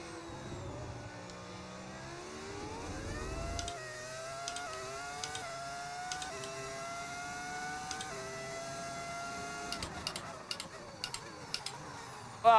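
An F1 25 Lamborghini race car engine fitted with a V10 sound mod revs high and shifts up through the gears in a rising, whining series, with sharp clicks near the end and no talk.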